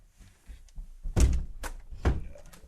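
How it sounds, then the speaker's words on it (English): A studio door swings shut with a couple of dull thunks and a latch knock, close by, with faint movement and rustle around it in a quiet room. "Close that door again for the last time"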